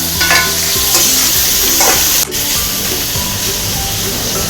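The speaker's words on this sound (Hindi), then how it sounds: "अब इसको फ्राई करते हैं, गोल्डन ब्राउन होने तक इसको फ्राई किया जाएगा" Loud, close sizzling of onions frying in hot oil until golden brown, with crackling hiss and occasional stirring scrapes throughout.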